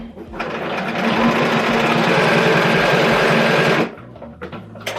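A sewing machine runs steadily for about four seconds while stitching a quilt, a loud, even mechanical whir, then stops, leaving a few small clicks and handling sounds.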